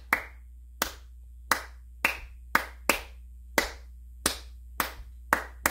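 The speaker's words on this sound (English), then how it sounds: "let's just clap some rhythms. Can you guys just do this? Just clap that rhythm." Hands clap a dance hall rhythm during a piano lesson, about a dozen sharp, close claps in an uneven repeating pattern over a quiet low hum, with no talking.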